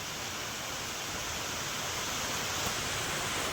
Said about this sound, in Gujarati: ધીમો વરસાદ થઈ ગયો